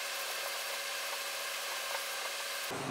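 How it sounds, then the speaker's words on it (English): Light wet sanding with 600 grit wet/dry sandpaper on a finished mahogany tabletop gives a steady, close, hissing rub with faint stroke rhythm, then stops abruptly. "Again, it's not a hard sand. It's 600 grit, wet dry sandpaper."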